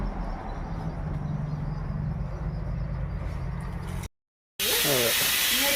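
A pressure cooker boiling corn vents air and steam in a loud, continuous close hiss for about four seconds before cutting off abruptly.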